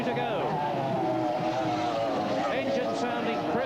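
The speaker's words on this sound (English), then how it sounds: "Engine sounding crisp, beautifully crisp, the V6 Mercury." A racing powerboat with a V6 Mercury engine roars steadily and loudly throughout an inshore race, its engine note wavering as it runs over the water, with a commentator talking over it.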